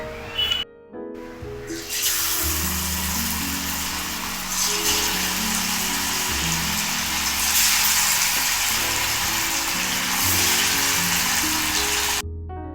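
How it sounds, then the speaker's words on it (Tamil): Anchovy (nethili) fish 65 deep-frying in hot oil, a loud, steady crackling sizzle that swells after a brief start and runs unbroken for several seconds, close up with no talk. "இப்போ எண்ணெயில் போட்டு நான் பொரிச்சு எடுக்க போகிறேன்"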